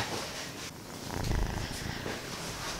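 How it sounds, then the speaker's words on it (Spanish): A house cat purrs steadily right against the microphone, a close, continuous low rumble with soft breathy texture and no talking. "Ahora ronronea."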